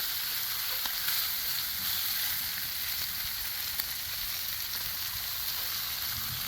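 Eggs sizzle steadily over low heat on a Blackstone griddle, a constant bright crackling hiss with faint pops and no voices.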